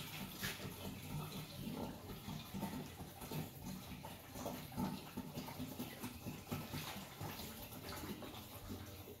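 Water runs steadily into a plastic reservoir tank during its first fill, a continuous broadband splashing and trickling close by that keeps an even level throughout with no talking.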